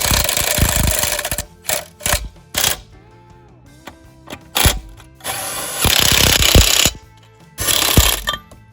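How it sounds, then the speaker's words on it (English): Impact wrench fitted with a 22mm socket driving wheel nuts tight on a tire, in several loud rattling bursts of a second or more separated by short pauses, close up. "Now we can take our impact and our 22mm socket."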